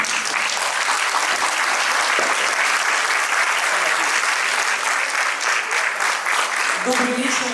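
Loud, continuous applause from the audience at a film premiere evening, a thick wash of many hands clapping at an even level all the way through.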